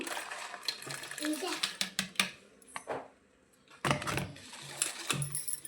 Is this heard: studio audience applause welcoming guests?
no